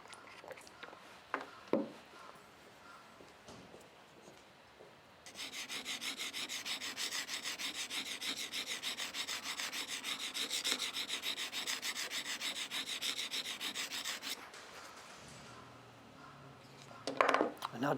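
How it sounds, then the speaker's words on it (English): A blade edge being sharpened, a small amount of metal removed, gives a steady, fairly loud rasping scrape lasting about nine seconds, with quieter handling and faint scraping before and after it. "There's such a small, tiny amount of metal being removed here."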